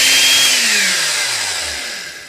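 A restored Skilsaw 77 circular saw whines at full speed and then spins down, its pitch falling steadily as the motor coasts to a stop, loud and close.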